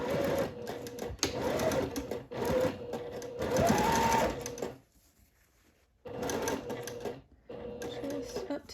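Sewing machine stitching a dress seam in seersucker, rapid mechanical whirring bursts that speed up and stop, with a pause of near silence before stitching resumes.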